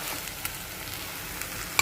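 Onion, green and red chillies and curry leaves fry in hot oil for tempering, with a continuous close sizzle, a few light stirring clicks and one sharp tap near the end, and no voices.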